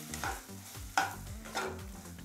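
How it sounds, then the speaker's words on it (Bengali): Peanuts are mixed into dry-cooked potato filling for samosas in a pan, with a few soft scraping strokes and a faint sizzle, quiet and close. "চিনেবাদামটা আলুর সাথে খুব ভালো করে মিশিয়ে নেব।"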